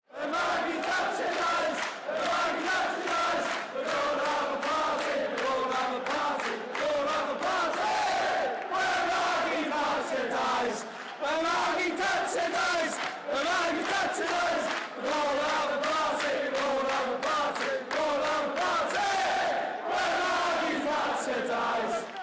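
A crowd of Liverpool football supporters sings a chant together, loud and sustained with steady rhythmic phrasing, the massed voices continuous throughout with brief dips between lines.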